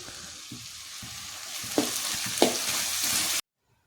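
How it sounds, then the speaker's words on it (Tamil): Onion, tomato and ginger garlic paste sauté in a pan for veg kurma with a continuous sizzle and a few soft stirring knocks, then the sound cuts off abruptly. "இப்போ இஞ்சி பூண்டு பேஸ்ட் ஆட் பண்ணிக்கலாம். இது எல்லாம் நல்லா வதங்கட்டும்."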